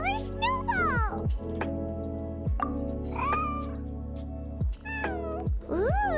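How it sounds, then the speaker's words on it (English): A Genshin Impact cat named Snowball meows repeatedly in high, sliding cries, close and clear, with a few short pauses between calls over a steady low tone. "Here, kitty, kitty! That's it, Snowball! Good kitty!"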